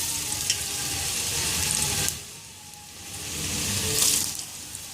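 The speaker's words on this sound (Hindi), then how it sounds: "अब मैं ऑयल में ऐड करूँगी चिप्स" Besan-coated potato chips frying in hot oil in a kadai, a steady broadband sizzle that dips briefly midway and swells again, with no talking.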